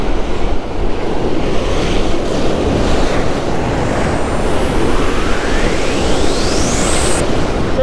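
Ocean waves and wind batter a jetty in a steady, loud broadband roar that never lets up, with a thin rising whine creeping in toward the end.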